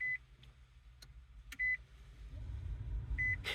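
Startup chimes from a 2024 Nissan Leaf SV Plus electric car, three short electronic beeps spaced over a few seconds inside the cabin, with no engine noise and only a low hum between them.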